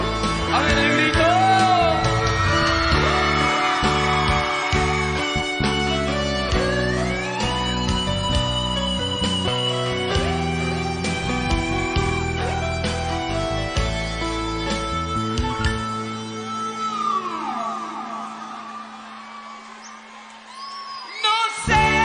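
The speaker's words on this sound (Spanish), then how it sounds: "A ver el grito." A live concert crowd at a show shouts and whoops along over loud, continuous band music and singing, the yells blending into the dense mix.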